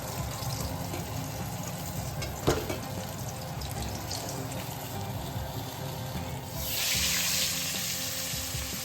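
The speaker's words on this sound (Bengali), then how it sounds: "এবার আমি এক এক করে মাছগুলো ভেজে নেব" Tilapia fillets fry in hot oil in a wok, a soft, steady sizzle with one brief clatter early on and a brighter hiss welling up near the end.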